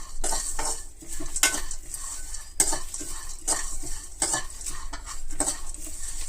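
Roasted gram being dry-roasted and stirred in a pan for a puffed rice mixture, rattling and scraping in repeated strokes over a soft sizzle, close and fairly loud, with no voices.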